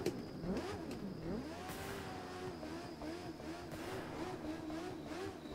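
A motorcycle engine revving up and down in The Crew 2, played on a Logitech G29 wheel, with rising and falling pitch and a few sharp gunshot-like exhaust pops near the start.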